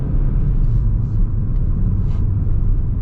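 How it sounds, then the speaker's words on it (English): A 2023 Audi RS3 with its five-cylinder engine, heard from inside the cabin as a loud, steady low rumble and drone that holds constant throughout. "this 5-cylinder sounds really crazy"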